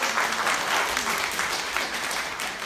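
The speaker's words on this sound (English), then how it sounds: "Please give me a huge applause from Poland to Anna Skóraś." An audience applauds steadily throughout, dense clapping at a fairly close, even level for a few seconds.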